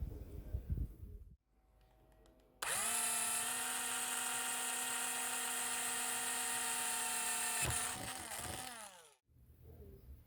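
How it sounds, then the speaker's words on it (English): A drill runs for about five seconds as it bores a hole in a part of a 1950s heat lamp, a loud, steady high whine that starts abruptly, holds level and winds down, with faint handling noises before and after. "Now we need to drill a hole in this."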